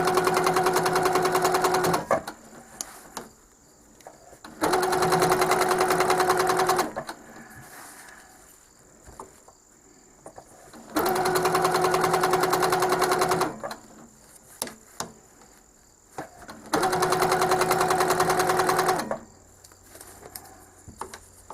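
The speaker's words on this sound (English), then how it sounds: "Now, since this is a Handi Quilter stationary machine," A Handi Quilter stationary sewing machine quilting a Christmas quilt block, running in four steady bursts of rapid needle stitching separated by short pauses with faint handling noise.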